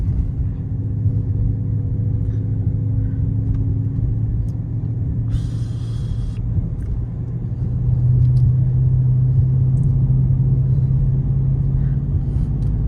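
A Dodge Charger's engine rumbles steadily through the cabin during a hard acceleration, a low drone that swells and grows louder partway through, with a brief hiss over it.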